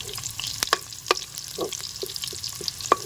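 Garlic sizzles in oil left over from frying fish, with a spatula scraping and clicking against the pan in irregular strokes over a soft, close frying hiss.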